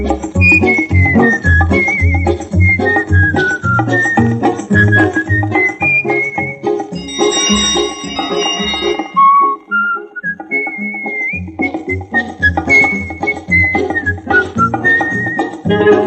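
Melodic whistling carries the tune of a Hindi film song, bright and sustained over a full orchestral backing, with no singing in this passage.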